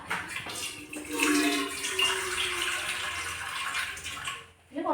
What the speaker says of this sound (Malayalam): ഇതിൽ കുറച്ച് വെള്ളം വെക്കാം